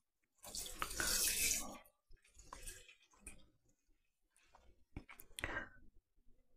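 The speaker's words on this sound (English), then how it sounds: "And then we're going to put in a pint of milk." A pint of milk pours into a dish for an oven-baked rice pudding, a close, gurgling liquid rush lasting over a second, followed by softer splashes and a few drips, with faint low voice sounds.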